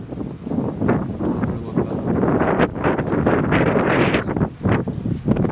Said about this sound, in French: Ouais, c'est vrai qu'il y a du vent.